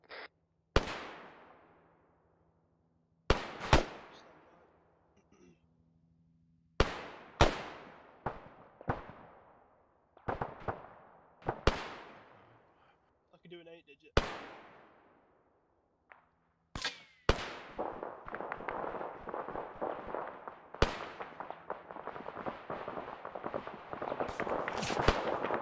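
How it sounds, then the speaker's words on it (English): Sharp, isolated rifle shots ring out in the military sim Arma 3 on a snowy map, each cracking loudly and decaying with a long echo, spaced a few seconds apart, before a denser, continuous burst of gunfire takes over near the end. "Shots coming from the southwest."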